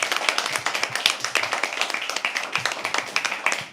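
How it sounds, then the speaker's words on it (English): Clapping for a performer at a poetry open mic night, a small close crowd tapping out brisk, rhythmic claps for a few seconds. "Can we please have a huge round of applause for"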